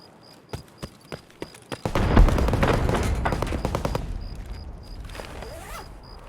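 ADAR rifle in an Escape from Tarkov raid: a few spaced single shots, then a dense rattling burst of rapid gunfire that fades into scattered cracks, with a faint repeating high click throughout.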